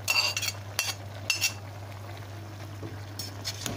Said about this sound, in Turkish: karıştırıyoruz.